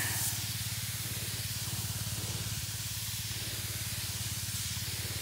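A garden sprayer hisses steadily while spraying bean plants, a continuous near spray with a low mechanical pump hum running beneath it, alone without talk.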